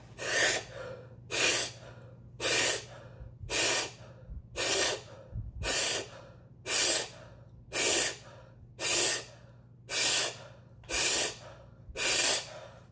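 Deep diaphragmatic breaths in the Wim Hof method style, a steady series of about a dozen loud, even, rhythmic inhale-exhale cycles close to the mic, with no talking.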